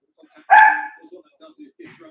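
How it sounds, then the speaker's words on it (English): A dog barks out in a garden: one loud, sharp bark near the start, then quieter low sounds and faint voices in the background. "Sorry about the dog barking."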